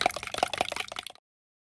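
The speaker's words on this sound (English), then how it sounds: "Now it's time to whisk the eggs and milk together before adding in the grated cheese" Eggs and milk whisked together in a bowl for a cheese and tomato quiche, a quick run of wet clicking and sloshing strokes, close and fairly quiet, stopping after about a second.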